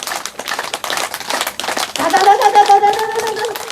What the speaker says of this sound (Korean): 일률적으로 크게 박수 한번 쳐보시겠다.